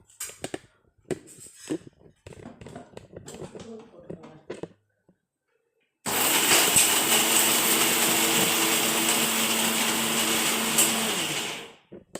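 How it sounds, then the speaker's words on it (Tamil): A kitchen mixer grinder pulses dried red chillies with tamarind, coconut and salt for grandmother's sambal: a loud, steady motor whir with a grinding rattle runs for about six seconds and stops abruptly, following a stretch of speech and small clatters. "இதை மிக்சியில் ஒரே ஒரு சுட்டு மட்டும் போட்டுக்கோங்க"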